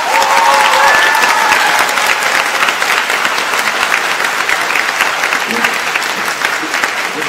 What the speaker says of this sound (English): can we hear what it sounds like when everybody applauds, so that it's really loud?